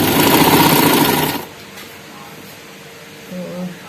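A sewing machine runs loud and steady, stitching the strap of a gallus-style frock, then stops abruptly after about a second and a half, leaving faint room noise with a brief soft sound near the end.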